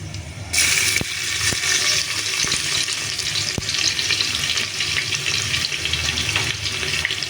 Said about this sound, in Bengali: রসুন যেটা থেতো করে রেখেছিলাম তো একটু ভেজে নেব দেখো একটু ভেজে নিচ্ছি